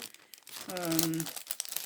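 Gift wrapping paper crinkles and tears as a present holding craft dies is unwrapped. The rustling is close and continuous, with a voice speaking over part of it.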